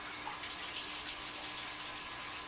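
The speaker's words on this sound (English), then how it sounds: "It's always a good idea to run water over the plant." Tap water runs in a steady, close hissing stream over a plant being rinsed, a continuous bright splashing flow with no talking.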